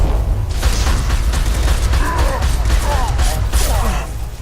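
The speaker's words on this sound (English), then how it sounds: "Deploying incineration tank." A burst of incineration-tank fire in Mass Effect 2 combat: a dense, roaring rush of noise with crackling pops that sustains for several seconds before easing off, with game voices briefly heard over it.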